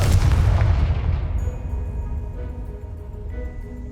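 A Confringo fire spell bursts in Hogwarts Legacy, giving one loud booming explosion at the start that rolls off into a long fading rumble with no voices over it.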